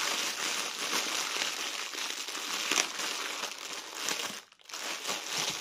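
Packaging crinkles loudly and continuously as it is unwrapped close by, with a short pause before the rustling resumes.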